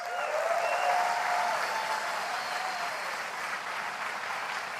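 Steady applause from a large conference audience at Apple's WWDC 2017 keynote, a broad continuous wash of clapping lasting several seconds with no talk over it.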